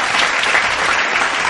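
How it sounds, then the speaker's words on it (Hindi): Dense, even audience applause on a televised talent competition stage for a contestant, a brief loud burst of many hands clapping together. "प्लीज जोरदार तालियां प्रियांशी के लिए।"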